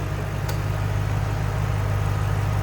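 A 2006 Ford Mustang Shelby GT-H engine idling steadily and smoothly up close, a constant low rumble with a faint tick near the start.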